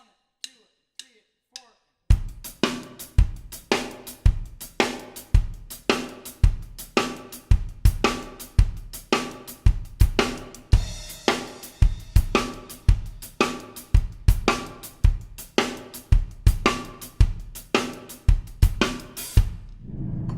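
Drum kit playing a fast shuffle groove with hi-hat triplets: a few count-in clicks, then a dense, steady triplet pattern of hi-hat strokes over kick and snare hits, loud, close and continuous for about eighteen seconds.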